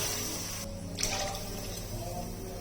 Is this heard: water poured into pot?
yes